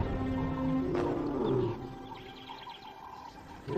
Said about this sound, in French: elle les entend rugir pour signaler leur position